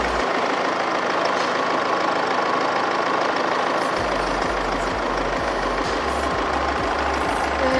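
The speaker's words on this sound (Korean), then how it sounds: "엔진 소리 일정하고 좋습니다" Land Rover Discovery Sport 2.2 SD4 diesel engine idles with the hood open, a steady, even low rumble with a faint rhythmic knock that holds constant, close and loud, with no talking.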